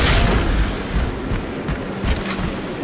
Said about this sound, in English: Shoot those large bolts in.